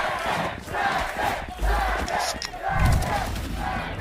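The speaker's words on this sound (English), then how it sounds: "Just listen to that crowd" An esports arena crowd at a Valorant Americas Stage 2 match between Sentinels and Cloud9 roars and cheers in loud swelling waves, with a caster's voice talking over the noise.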